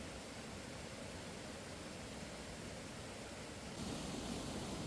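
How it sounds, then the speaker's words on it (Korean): Water gushes through a dragon pool in the Deoksan forest valley of Jangansan park, a dense, unbroken broadband roar that swells slightly louder near the end. "콸콸 시원하게 구비쳐 흐르는 용소입니다"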